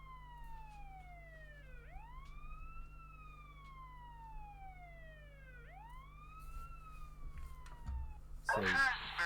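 An ambulance siren in Rescue 2 Everyday Heroes wails in long rising and falling sweeps over a low steady hum, fairly faint and distant, and ends with a brief burst of louder noise.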